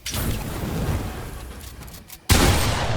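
Battle royale video game gunfire: a dense, loud burst of rapid shots fills the scene, drops away briefly, then another sharp volley cuts back in just as loud.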